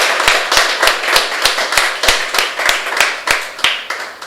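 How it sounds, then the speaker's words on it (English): Close, crisp hand claps in an even, rhythmic beat, roughly three per second for about four seconds at a legal hackers summit, with no voices in between. "Let's give a round of applause to our sponsors."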